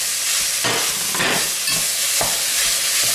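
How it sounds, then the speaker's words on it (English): Minced beef sizzles and frying in a pan for a cottage pie, a steady close hiss broken by a few louder scraping stirs, with no voices. "add the minced beef to the pan"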